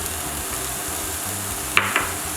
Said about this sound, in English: get a little bit of olive oil in the pan here. Heat that up. And we're going to add some onion